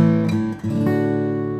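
A minor chord strummed on guitar: a full, loud ring that briefly dips, then a second strum sustains brightly to the end.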